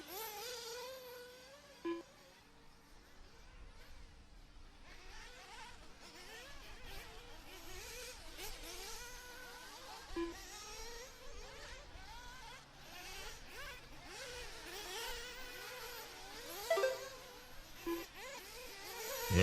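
Electric RC race cars on an outdoor raceway track, a continuous high-pitched whine of motors rising and falling as cars accelerate and pass, several at once, with occasional knocks and clacks from landings.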